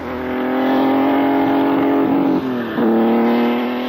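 A vintage Grand Prix race car engine drones loudly and close, holding a steady high-revving tone with a brief dip and recovery near the end, as if shifting gear.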